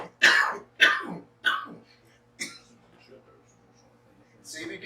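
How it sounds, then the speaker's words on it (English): Several harsh, phlegmy coughs from a man, three loud bursts in quick succession followed by a quieter throat-clearing hack and then a breathy exhale. "It's coughing up all that phlegm from your lungs."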